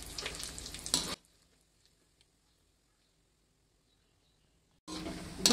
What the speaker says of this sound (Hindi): बादाम को एकदम स्लो फ्लेम में तलेंगे।